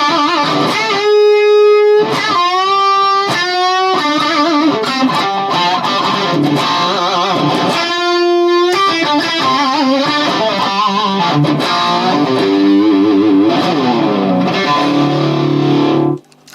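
Electric guitar played through a modded Marshall JMP 2003 amp gives a loud, heavily distorted tone, with sustained held notes and bends alternating with choppy chords and riffs, ending abruptly.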